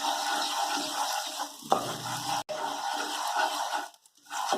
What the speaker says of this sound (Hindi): हम इसे अच्छे से मिक्स करेंगे।